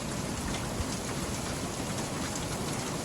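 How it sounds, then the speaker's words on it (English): A huge hailstorm pounds down over a small homestead garden, a dense, steady hiss of impacts without letup and no voices. "we're getting hit by a huge hailstorm right now"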